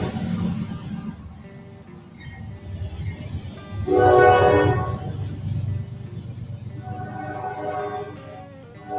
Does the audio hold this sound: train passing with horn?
yes